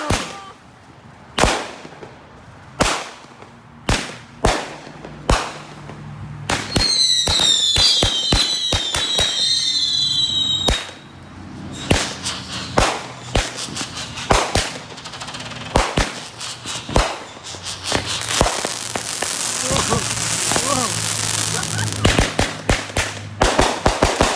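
Outdoor fireworks and firecrackers go off in a long run of sharp, loud bangs, some single and some in rapid crackling bursts, with a whistling rocket rising partway through and dense crackle near the end.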